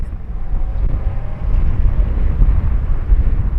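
Strong gusting wind buffeting a microphone outdoors near a black Lamborghini Urus S, a loud, low rumbling roar that swells and surges continuously, drowning out other sound.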